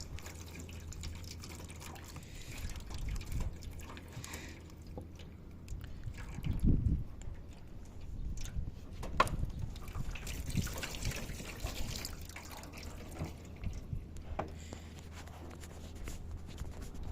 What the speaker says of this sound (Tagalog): Now, I'm already pouring the water.